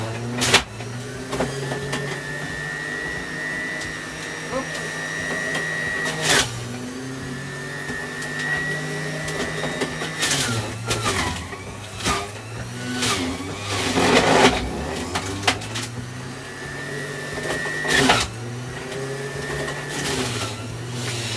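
An electric juicer whines and grinds in repeated bursts while making juice, the motor rising and falling in pitch as produce is pushed through, loud and close with clattering in between.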